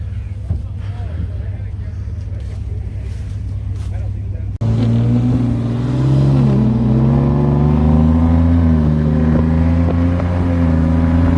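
A loud off-road truck with a trombone exhaust idles and then revs up with a deep, throaty exhaust rumble, steady and close throughout.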